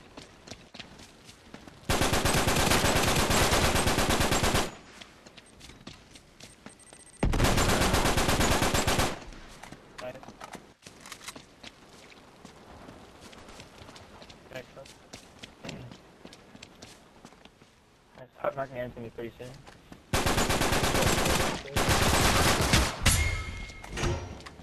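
Bursts of loud automatic gunfire in the shooter Uncharted 3, three long sustained volleys separated by quieter stretches of footsteps, scattered shots and game effects.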